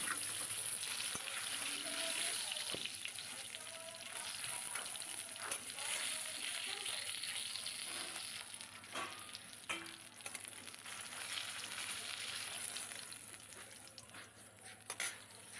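A hilsa fish head frying in oil gives a soft, steady sizzle, broken by the scrape and clatter of stirring at intervals. The sound is fairly quiet overall.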